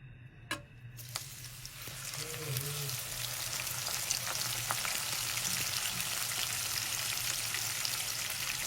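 Sliced onions dropped into hot oil for a chicken korma, a couple of clicks followed by a steady, fairly quiet frying hiss that builds and continues evenly, without anyone talking.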